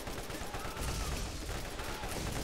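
Gunfire strikes the player in the Borderlands game as a dense, continuous fusillade of rapid shots and impacts. The racket is close and loud and fills the whole stretch without a pause.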